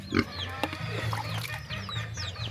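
A pet pig is bathed on a farm, giving a few low grunts and oinks as water splashes. Chickens cluck and chirp nearby under a busy, continuous outdoor background.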